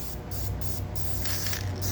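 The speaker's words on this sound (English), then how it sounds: "A little bit of spray adhesive." Close, hissing spray from an aerosol can, sent out in several quick bursts with brief gaps between them.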